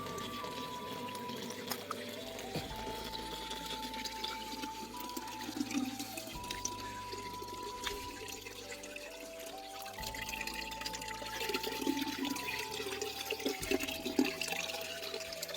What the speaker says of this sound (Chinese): 这里面的那个泥巴太多了，清洗一下